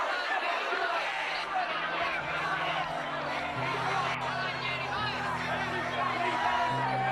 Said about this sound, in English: Outside the hospital, the crowd began to chant